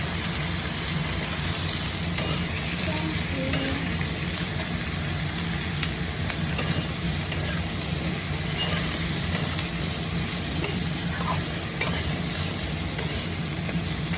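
Vegetables frying with salt in a hot pan for a puti fish dish, giving a steady close sizzle with irregular scrapes and knocks of stirring, over a constant low background hum.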